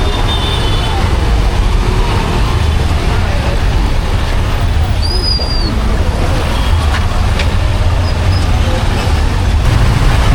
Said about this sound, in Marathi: एवढा ट्रॅफिक आहे इथं.